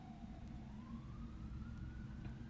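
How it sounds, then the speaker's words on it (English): An ambulance siren sweeps past outdoors over steady traffic rumble, its wailing tone rising and falling continuously, moderately loud, with no talk over it. "That was an ambulance."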